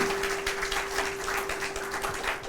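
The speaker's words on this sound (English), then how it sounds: "Can we have a big round of applause for Ananya" Audience applause for the author Ananya at a talk at Humayun's Tomb World Heritage Site, a brief stretch of steady crowd clapping at moderate level with a faint constant hum underneath.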